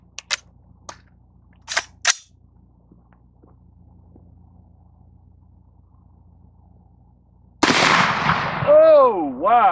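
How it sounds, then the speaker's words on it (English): A .50 caliber rifle fires once at a watermelon target about 40 yards away, a loud, sharp blast with a ringing tail that follows a few faint clicks and a short stretch of near-quiet. "All right, so it's time for the Gallagher shot with the watermelon down there"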